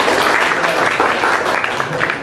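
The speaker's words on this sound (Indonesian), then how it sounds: "Tepuk tangan untuk satu." Students in a classroom clap for a classmate in a short burst of dense, even applause that sounds close and fills the room at a steady level with no voices over it.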